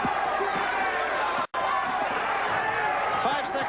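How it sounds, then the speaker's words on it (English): Dense, steady crowd roar at a boxing bout fills the whole stretch, loud and continuous apart from a split-second dropout midway, with a commentator's voice running through it. "listen to the crowd for Kennedy McKinney"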